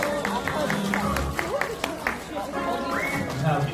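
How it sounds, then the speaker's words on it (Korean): An aquarium show audience claps for the aquarist in a shopping-mall setting, scattered claps mixed with crowd chatter and a presenter's voice over the top. "수고하신 아쿠아리스트에게 마지막으로 큰 박수 한번 부탁드릴게요"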